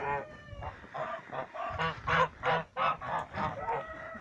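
Geese in a shed honk repeatedly, close and fairly loud, in a rhythmic series of nasal calls about every half second, with a few overlapping honks from the flock.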